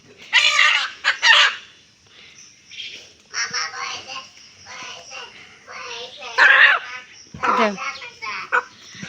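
A rooster and hens cluck and squawk in short bursts nearby, with people talking in between.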